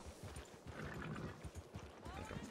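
Horse hooves clip-clop with a brief whinny in the RedM western roleplay game, a steady clatter of hoofbeats up close with voices talking over it throughout.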